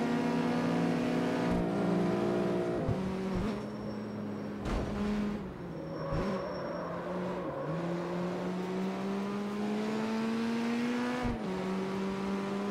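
A powerful race car engine drones steadily in CarX Street, pitch climbing under acceleration and dropping sharply at several gear shifts, sustained and close throughout.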